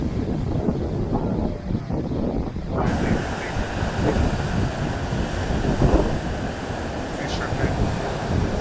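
Waves wash steadily onto a sandy, dark beach beside a fishing area, a continuous broad rush of surf with wind buffeting the microphone throughout.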